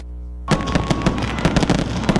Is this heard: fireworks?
yes